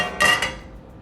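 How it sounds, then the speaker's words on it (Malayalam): A metal cooking pot is set down on a stove in a Kerala kitchen, making one short metallic clank with a faint ring that quickly fades. "ഒരു പാത്രം അടുപ്പത്ത് വെച്ചിട്ടുണ്ട്"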